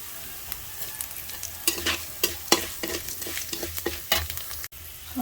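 Moong dal with dried red chilies, garlic and black cumin frying in hot oil, a close, bright sizzle broken by repeated scraping strokes of a spatula stirring the pan.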